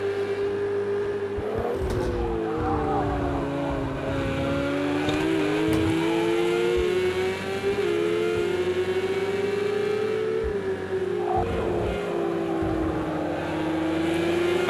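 A race car engine in Project Cars 2 at the Nürburgring GP circuit wails at high revs through the lap, its pitch rising and dropping through gear changes, steady and fairly quiet with no voices.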